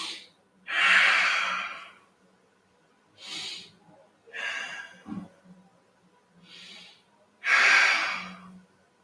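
Slow, deep breaths in a yoga forward fold during a vinyasa flow, with four or five long, close, airy inhales and exhales separated by quiet pauses.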